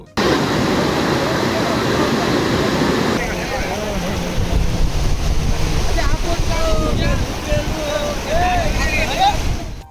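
A Telangana waterfall swollen by heavy rains pours down in a loud, continuous broadband roar of rushing water, with people talking faintly beneath it.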